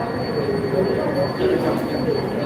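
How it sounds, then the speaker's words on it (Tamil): A train rumbles through Woodlands train station in Singapore, a steady, loud roar with faint wheel squeal, while a voice talks over it. "உட்லண்ட்ஸ் ட்ரெயின் ஸ்டேஷனில் தான் இருக்கேன் சிங்கப்பூர் உட்லண்ட்ஸ் ட்ரெயின் ஸ்டேஷன்"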